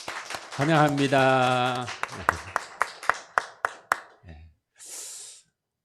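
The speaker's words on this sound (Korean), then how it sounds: "우리 격려하는 목소리로 우리 다 같이 한번 박수하겠습니다." Sparse, evenly spaced handclaps from a church congregation offering encouragement, about eight sharp claps in a steady rhythm following a voice, then a soft breathy hiss; a person speaks before the clapping.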